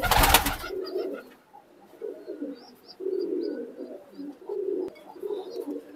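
Pigeons, fancy breeding birds in a coop in R.S. Pura, Jammu, coo repeatedly in soft low rolling phrases close by, following a brief loud burst at the start.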